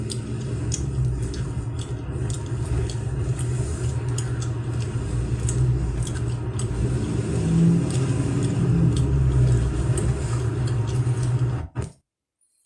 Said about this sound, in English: And this is a Milwaukee County spotter car.